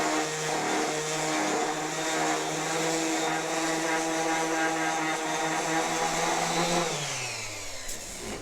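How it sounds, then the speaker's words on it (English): An electric sander whirs steadily while scuffing old spindles, a loud, sustained motor whine that drops in pitch as the tool winds down near the end. "So now we'll just turn on the sander and see what happens"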